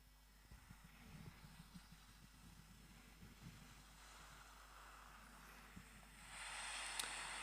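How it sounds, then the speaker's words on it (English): Recorded ocean waves wash steadily under faint wind and a low rumble, with a broad hiss of surf swelling louder near the end. "I also downloaded ocean sounds."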